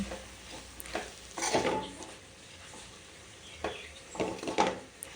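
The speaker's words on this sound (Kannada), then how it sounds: "ಈ ರೀತಿ ಹಾಕ್ಕೊಂಡು ಚೆನ್ನಾಗಿ ಮಿಕ್ಸ್ ಮಾಡಿಕೊಳ್ಳುವ." A spoon stirs spice powder into a moringa leaf stir-fry in a pan, giving a few scraping, clattering strokes over a low sizzle, close and moderate in level, with no talking.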